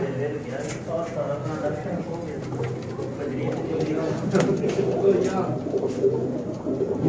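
Flying pigeons from a flock of 82 coo in overlapping low murmurs nearby while someone talks over them throughout, with some clattering movement in the background.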